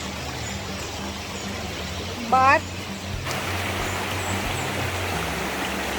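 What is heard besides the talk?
river water flowing strongly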